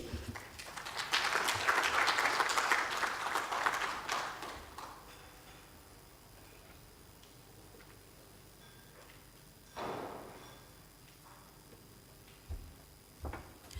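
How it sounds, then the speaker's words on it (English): Audience applause at a workshop on the Kenyan fashion industry, a burst of many hands clapping that swells for a few seconds and then fades, followed by quiet room tone with a couple of later isolated knocks. "Let's give Mendy another round of applause"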